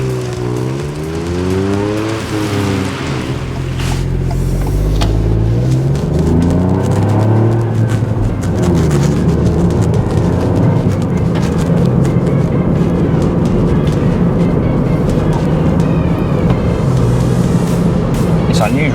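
A Ford Fiesta ST manual hot hatch drives off, its engine note rising and dropping through gear changes, loud and close, with some speech heard over it.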